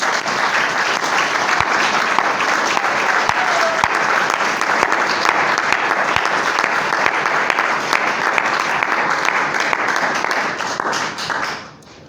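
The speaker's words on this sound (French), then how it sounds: "Est-ce qu'on peut acclamer pour la gloire du Seigneur?" Church congregation applauding together at a Sunday morning service, a dense, steady wash of many hands clapping for about twelve seconds before fading out at the end.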